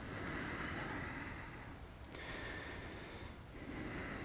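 Steady breathing held through a twisting yoga pose in a men's yoga session, soft and close with a couple of faint sharper breaths, no talking.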